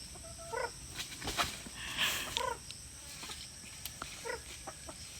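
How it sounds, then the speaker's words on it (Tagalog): Several chickens cluck in short, scattered bursts nearby over a quiet background, with sharp little calls at irregular intervals. "Hindi magpahuli yung mga manok dito."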